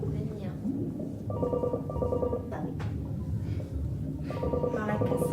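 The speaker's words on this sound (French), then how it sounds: "Mais qui a laissé son téléphone allumé?" A mobile phone rings in a kitchen during a cooking demonstration. Its bright ringtone repeats in several short bursts under ongoing chatter and kitchen noise.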